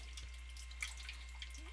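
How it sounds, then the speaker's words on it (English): An air-driven pump in a Marina holding and breeding box dribbles water up into the little side tank, giving faint, intermittent drips and trickles at close range over a low steady hum. "You'll see that little side tank fill up."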